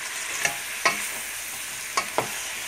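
Cauliflower with minced meat and tomato paste sizzles steadily in a pan while a spoon turns it over, giving four sharp scraping knocks spaced irregularly over the continuous frying hiss, no talking.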